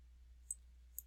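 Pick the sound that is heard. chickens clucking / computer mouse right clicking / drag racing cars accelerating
computer mouse right clicking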